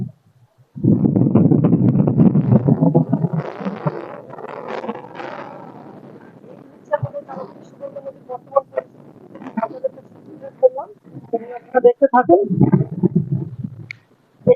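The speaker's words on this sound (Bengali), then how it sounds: "আপনারা একটু লক্ষ্য করেন যে কি পরিমাণ বাতাস এখানে চলছে" Strong wind during a river flood in Jhalakathi, Barishal, buffets the microphone in loud low rumbling gusts, heaviest at the start and again near the end, with quieter flutter between.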